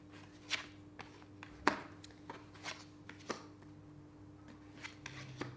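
Tarot cards being shuffled by hand, a scattered run of soft papery riffles and crisp flicks with one sharper snap near the start, close and fairly quiet against a low steady hum.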